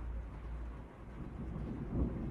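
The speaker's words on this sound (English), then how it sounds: "thunder now." Distant thunder rolling through a storm, a low steady rumble that swells slightly toward the end, with faint rain noise mixed in and no talking.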